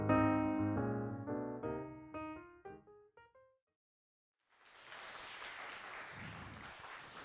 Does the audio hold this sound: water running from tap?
no